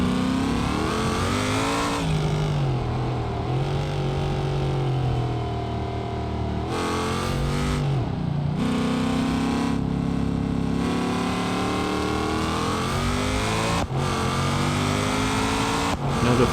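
Car with a sequential gearbox driving in BeamNG.drive on the West Coast USA map, engine revving steadily and loud throughout with sharp drops and rises as gears shift hard, running alone without talk.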